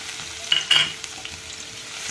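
Crushed garlic hits 1.5 spoons of hot oil in a pan, bursting into a brief bright sizzle and spatter that settles into a quieter steady fry, close and without talk.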